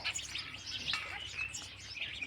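Many birds chirp and tweet together in a continuous, busy chorus, fairly distant and soft, with no voices.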